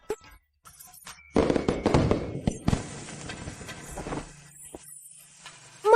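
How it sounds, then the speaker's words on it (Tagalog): Fireworks and firecrackers go off at a celebration, a dense run of sharp pops and thuds that starts loud and keeps crackling for several seconds, with people's voices and commotion mixed in. "May paputok!"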